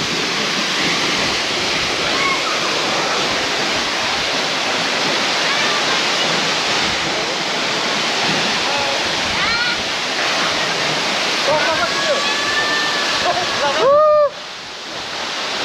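Fung Fung Waterfall near Kathmandu gives a constant, dense roar of falling water that stays close and loud throughout, with a brief tonal sound breaking through near the end.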